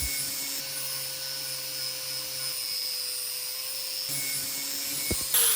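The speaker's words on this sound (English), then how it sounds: "Using the angle grinder, we'll trim the corners and give this piece a circular shape" An angle grinder trims the corners of a metal lid into a circle while building a wood pellet stove: a steady, unbroken motor whine holds at an even level from start to finish with no voices.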